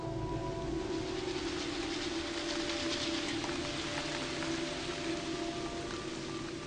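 Steady, dense wet-season rain hisses without pause, a continuous wash of drops with a low hum underneath.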